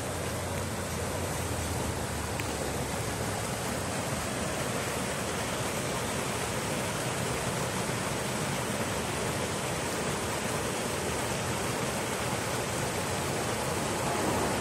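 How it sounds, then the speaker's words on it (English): A small stream behind a hotel, swollen after heavy overnight rain, rushes in a steady, continuous wash of water with no pauses. "it kind of developed into like a little stream back here"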